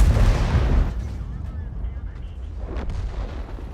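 A tank cannon in World of Tanks fires one heavy, booming shot at the start, and a long rumbling tail fades out behind it.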